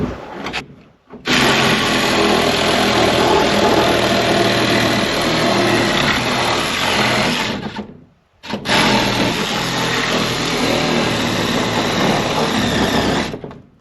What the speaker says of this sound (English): Here comes the Sawzall.